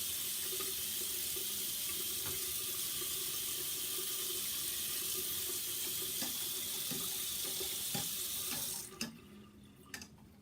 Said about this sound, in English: as you're rinsing under the water, you always want it pointing down, like on an angle